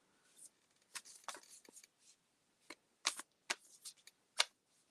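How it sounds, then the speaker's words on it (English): Quiet riffling and snapping of tarot cards being shuffled, several short bursts in an irregular rhythm, close by. "I'm shuffling for you right now, Laura."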